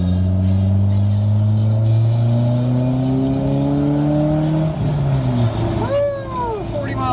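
Inside a 2002 Mitsubishi Lancer accelerating on the road, the engine drone rising steadily in pitch over several seconds, loud and continuous, with brief shifts near the end.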